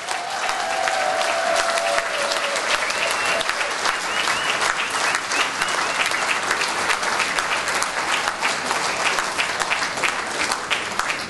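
A studio audience applauds loudly and steadily for about eleven seconds, a dense, even patter of many hands with no talking over it.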